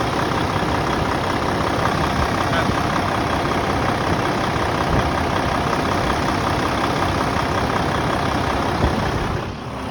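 Used semi truck diesel engine idling with strong compression, a steady low throbbing rumble held at close range for the whole stretch, loud and even with no speech.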